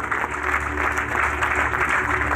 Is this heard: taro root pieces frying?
no